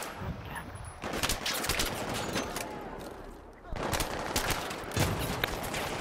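Gunfire from a Battlefield 3 co-op mission, with bursts of automatic fire and single shots that come in two dense clusters separated by a quieter gap, played against a steady battle background.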